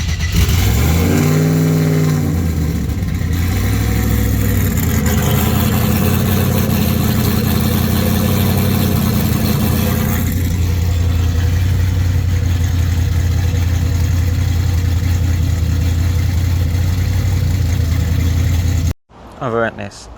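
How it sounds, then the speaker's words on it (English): LS-engined car with an exhaust leak, revving hard then settling to a loud, rough idle, close and continuous before cutting off abruptly near the end. "I have a wicked exhaust leak from that"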